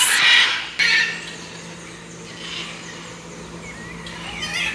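Harsh squawks from blue and yellow parrots burst out loudly at the start, followed by fainter calls and squeals scattered in the distance over a quiet outdoor background in Trinidad.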